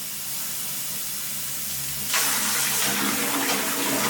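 Running water pours into a film developing tank during a rinse, starting as a low background hiss before a sudden louder gushing splash takes over for the second half.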